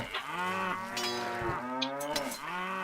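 Cattle lowing in the medieval castle-building strategy game Stronghold, several long, harmonic moos following one another across the clip, clear and fairly close, with no talk over them.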